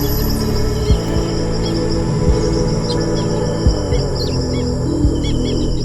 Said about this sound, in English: Wake up to the melody of birds